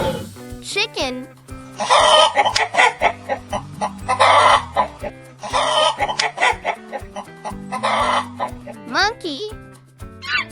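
A chicken clucks in rapid, close bursts over a steady musical backing, with a short voice heard at the start and again near the end.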